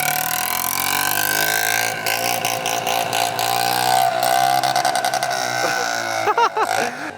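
A Honda TRX 70 ATV engine screams steadily at its rev limiter, a loud continuous buzzing drone with rapid stuttering cut-outs near the end.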